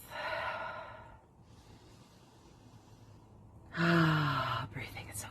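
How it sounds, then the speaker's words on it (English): Deep breaths taken during a stretch, two slow audible inhales and exhales, close and soft, with a quiet pause between them and a voiced sigh-like release on the second. "Take a deep breath."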